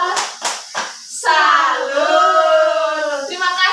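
In a classroom lesson, children do a rhythmic thumb-clap chant: four crisp, separate claps in a quick beat, followed by young voices chanting the call together in a drawn-out, sing-song line.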